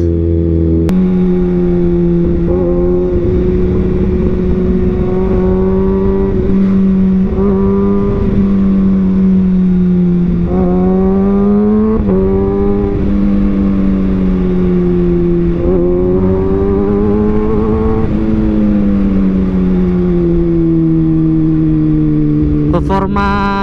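A 2021 Kawasaki Ninja ZX-6R motorcycle engine runs loud and close throughout, its pitch rising and falling in repeated throttle blips and revs, with a rider speaking under the engine noise.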